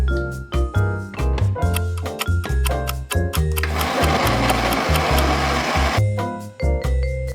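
A stand mixer beats the liquid base of a Sicilian lemon cake, sugar mixed with the wet ingredients, whirring steadily and loudly with rhythmic clattering against the bowl, no voices over it.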